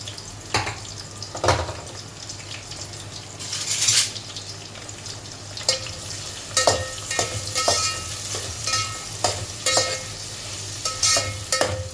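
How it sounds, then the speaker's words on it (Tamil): Onion dropped into hot oil and frying while preparing vegetable rice, a steady close sizzle with occasional stirring scrapes and clinks over it. "எண்ணெய் சூடாயிடுச்சு. நம்ம வெங்காயம் போட்டுக்கலாம்."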